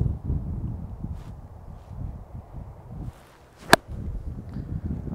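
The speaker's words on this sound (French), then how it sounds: "Ça souffle droite-gauche." Gusty wind blows across an open pitch and putt golf course, a steady low rumbling rush with soft buffeting, plus one sharp brief crack partway through.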